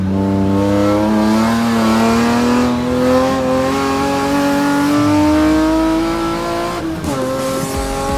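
BMW M race car from the M Performance Parts race series at a circuit event, engine howling loud and close as it accelerates through the chicane, steady rising revs with a brief gear-change dip near the end.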